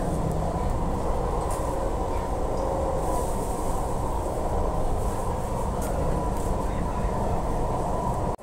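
A steady low rumble and rattle of a moving train in Hong Kong heard from inside a carriage at midday, constant throughout with a few faint clicks.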